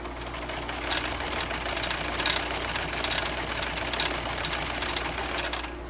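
A 1959 Kenmore 158.16410 sewing machine runs a decorative stitch, a fast steady mechanical chatter with rhythmic needle knocks and a low motor hum, close and continuous for several seconds before slowing at the end.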